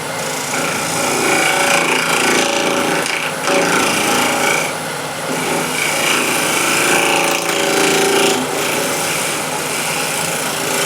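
Refiner tool scraping CA glue off a spinning wooden turning on a lathe, a loud continuous rasping rub with slight surges as pressure shifts, close and steady with no talk.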